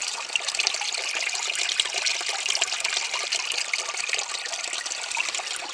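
Water rushes steadily through a gold cleanup sluice carrying black sand, a constant close, loud splashing flow with no speech.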